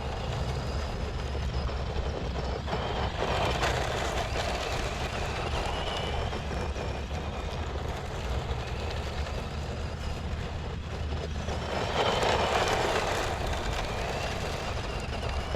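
Tamiya Super Avante TD4 RC car with an upgraded electric motor running continuously, a steady droning whine with mild rises in pitch, moderately close and without talking.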